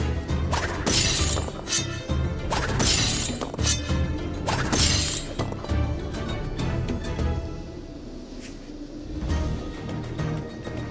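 Glass panes shatter again and again in the Skylanders SuperChargers video game, loud crashing bursts repeating every second or two over a busy rumbling game soundtrack, with a quieter stretch near the end.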